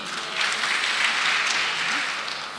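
A church congregation claps for a Uasin Gishu county representative, the applause swelling quickly into a full, sustained wash of many hands, then tapering slightly near the end.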